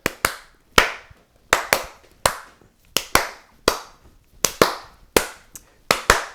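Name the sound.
hand clapping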